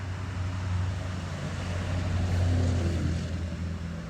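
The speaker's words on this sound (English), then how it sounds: "Sorry, traffic's going by." Road traffic rumbling past outdoors, a steady low engine drone from passing cars holding at a fairly loud level for the whole stretch with no talk over it.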